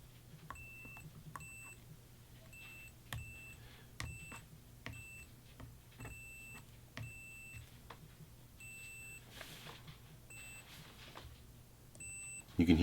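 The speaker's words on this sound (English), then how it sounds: "You can hear by that beep that everywhere I'm checking is a ground point." A multimeter on continuity setting beeps irregularly while testing ground points in a 1957 Fender Stratocaster's wiring, a dozen or so quick, brief, fairly clear chirps over a low steady hum.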